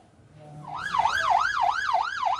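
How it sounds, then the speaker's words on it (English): Ambulance sirens wailing in a steady, looping up-and-down pattern, rising from a low hum to loud and close, part of an emergency response to a fire at a migration detention facility in Mexico. "A phalanx of ambulances."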